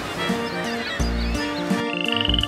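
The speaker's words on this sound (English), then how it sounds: "Green frog, they belong to a group called amphibians." A green frog croaks in repeated short bursts, loud and close, with pulsing throaty calls and a higher trilling note near the end, and no talking.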